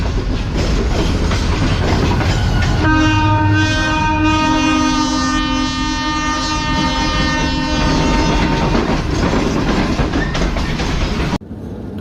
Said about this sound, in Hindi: तो एक अदद मालगाड़ी से हमारी मुलाकात हुई है हैदराबाद आउटर पर।